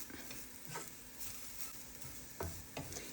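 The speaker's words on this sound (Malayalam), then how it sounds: "നല്ലപോലെ ഒന്ന് ഇളക്കി ചൂടാക്കി എടുക്കണം" Faint stirring of a lentil mixture heating in a pan, with soft scraping strokes and a low steady sizzle underneath.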